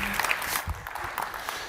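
Conference crowd at an innovation stage clapping to welcome a speaker, a short burst of mixed applause with some background noise and murmur.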